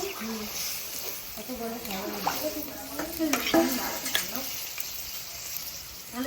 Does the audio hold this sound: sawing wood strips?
no